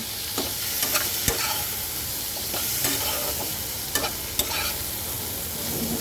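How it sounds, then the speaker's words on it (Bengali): Turmeric and coriander powder fry in hot oil and are stirred, a steady close sizzle broken by several sharp spoon scrapes and taps against the pan. "এবার এটাকে সুন্দর সুন্দর করে ভাজা ভাজা করতে হবে"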